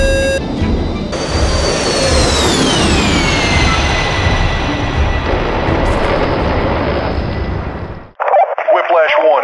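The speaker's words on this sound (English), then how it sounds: "You are right over our rocket strikes, and they are firing at you." Heavy rocket strikes and explosions in a military video game roar as a loud, continuous rumbling barrage with a descending whine, cutting off abruptly near the end before a brief burst of radio chatter.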